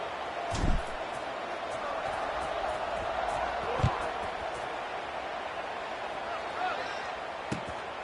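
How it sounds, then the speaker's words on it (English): A stadium crowd buzzes in a college football video game after a score, a steady distant roar with a few sharp thuds, under a commentator's voice. "this crowd is buzzing after that last score"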